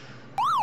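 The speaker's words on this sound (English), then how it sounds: "And the siren just gets faster and faster." Electronic ghost siren from the Pac-Man 25th Anniversary Edition arcade game: a bright synthetic tone bursts in and sweeps up then down in a rapid wail, loud and close after a quiet lead-in.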